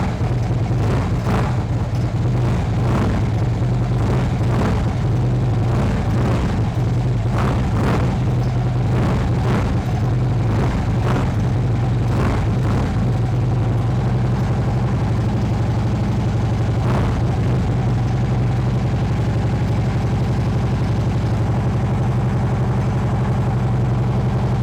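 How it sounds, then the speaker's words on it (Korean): A 2013 Harley-Davidson Street Glide touring bike idles with a deep, steady V-twin exhaust rumble, loud and close, with uneven throbbing pulses and a few sharper blips along the way. "배기 사운드도 굉장히 훌륭하고요"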